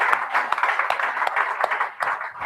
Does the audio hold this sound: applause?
yes